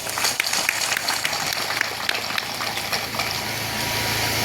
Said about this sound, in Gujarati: આપણે એકવાર જોરદાર તાળીઓ પાડી દઈએ